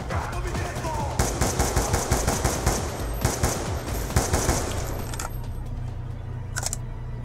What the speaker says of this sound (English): I'm hearing shots like beneath me.